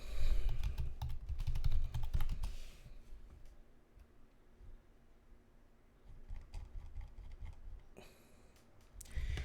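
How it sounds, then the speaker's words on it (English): Typing on a computer keyboard: quick bursts of light key clicks, then a quieter pause with sparse taps, then another brisk flurry, close and fairly soft, with no talk. "Just type in laundering here."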